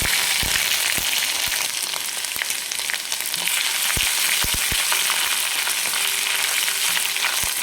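Crushed garlic cloves and a piece of ginger dropped into hot oil with bloomed cumin, giving a loud, dense, steady sizzle with scattered sharp crackles and spatter pops, close up with no voices.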